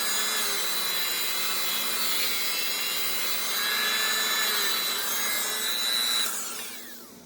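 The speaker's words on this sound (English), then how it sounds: "keeping that buff wheel in the area that I'm buffing out" A small buffing wheel polishing a slot car body runs as a continuous high whir with a rubbing hiss, holding steady and close for several seconds before it winds down and fades.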